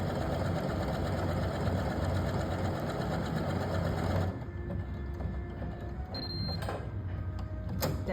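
A sewing machine runs steadily while stitching a buttonhole, a loud continuous mechanical whir for about four seconds, then stops, leaving faint clicks and small mechanical sounds.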